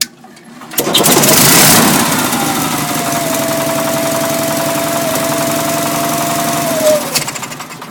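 An old Chevy truck engine cranks and fires up, then settles into a loud, steady, rough running drone close by before cutting off near the end.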